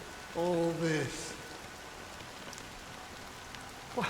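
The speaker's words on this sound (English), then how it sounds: "it's still raining." Steady rain falls in the Penacony area of the video game Honkai Star Rail, a constant soft hiss of droplets running the whole time, briefly overlaid near the start by a short tonal game sound.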